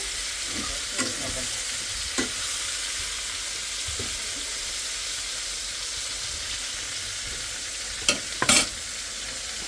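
Fish frying in a home kitchen pan, a steady soft sizzle running throughout with a few sharp crackles and pops near the end, no talking.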